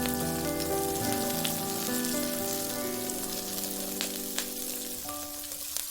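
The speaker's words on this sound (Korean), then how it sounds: "식용유를 넣고 마늘종을 넣고" Garlic scapes sizzle in hot cooking oil in a pan, a steady close frying crackle with a bright hiss that carries on throughout, with occasional stirring clicks and a tonal hum in the background, and no talking.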